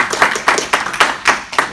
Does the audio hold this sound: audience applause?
yes